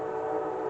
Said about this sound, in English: Please excuse the train.